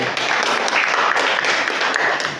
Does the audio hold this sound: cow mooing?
no